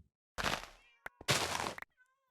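A cat meows in Minecraft 1.17 survival, giving two harmonic calls close together, each around half a second, with a fainter trailing mew after them.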